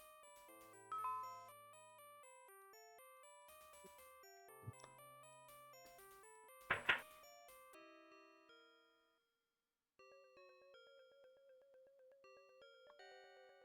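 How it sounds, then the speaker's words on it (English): A chiming doorbell-style ding-dong sequence of tonal notes in a retro PC-98 style horror mystery game, layered with game music, loud and clear before fading to silence, then a repeating tonal pattern resumes. "The doorbell is ringing."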